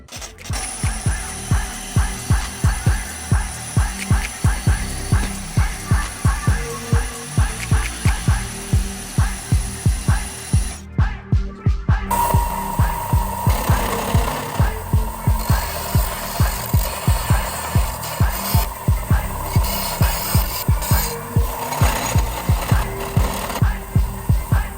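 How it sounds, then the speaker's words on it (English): Cutting the end off a 3-inch oval exhaust pipe with a power tool, a loud rapid rhythmic chatter of fast repeating strikes that runs steadily throughout, with a brief gap near the middle. "So we'll cut the end off of this real quick so we can get the other one welded on."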